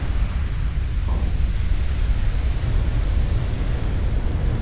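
Battleship explosion in the naval game Ultimate Admiral: Dreadnoughts, a loud, continuous roaring rumble with a dense low boom that holds steady throughout, no speech over it.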